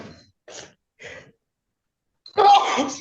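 A single sharp sneeze bursts out in a quiet courtroom, following a few soft, brief vocal sounds and breaths.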